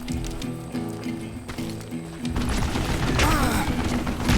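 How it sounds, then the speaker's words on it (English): Gunfire and explosive blasts in the Western shooter Call of Juarez Gunslinger, a steady rattle giving way to a loud, dense barrage with booming impacts over a continuous game soundscape. "para de atirar em mim"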